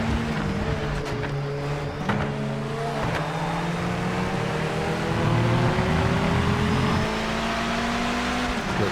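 A race car engine in the driving simulator Project Motor Racing, whining loudly through repeated gear changes with rising revs and brief drops between shifts, continuous and close for about nine seconds, with no talking.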